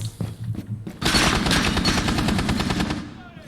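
Rapid automatic gunfire tears through walls in a tactical shooter match. After a second of quieter game sounds, dense, loud bursts start and run almost without pause until near the end.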